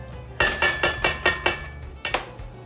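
Mashing boiled potatoes with butter using a whisk in a pot, six rhythmic metallic thumps in quick succession, a pause, then two more strikes, close and fairly loud with no talking.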